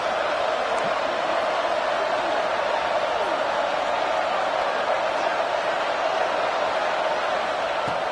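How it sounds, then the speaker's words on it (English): Steady roar of a packed college football stadium crowd before a game, dense and continuous at a high level for the whole stretch, with no single voice standing out. "this crowd is fired up. Listen to this noise here."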